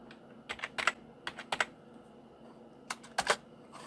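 Typing on a computer keyboard while filling in an online form: several short clusters of crisp key clicks at close range, separated by pauses, in a quiet room.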